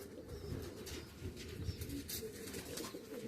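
Spanish Pouter pigeons coo in low, throaty murmurs, several birds layered into a soft continuous burble, with faint flutter and rustle nearby.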